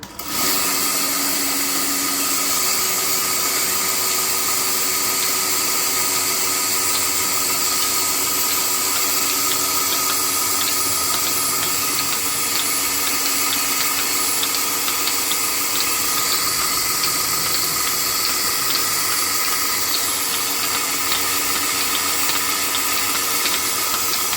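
A milking machine's motor and pulsators running: a steady mechanical motor hum with a faint rhythmic ticking running continuously underneath, loud and close, with no voices.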